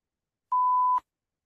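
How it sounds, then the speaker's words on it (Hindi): A single steady electronic beep sounds for about half a second, clean and isolated in silence, the recording-start tone used in the PTE exam when the countdown timer hits zero. "अब आपको एक बीप साउंड सुनाई देगी जैसे ये टाइमर 0 पे आएगा"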